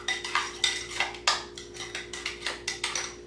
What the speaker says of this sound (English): we're just going to mix that up